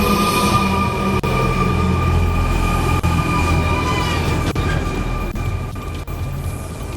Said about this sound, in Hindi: ये लीजिए पटना मेट्रो 3 स्टेशन के बीच ही दौड़ी है